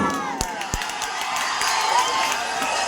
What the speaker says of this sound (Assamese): এটা নিজৰ কাৰণে হাত চাপৰি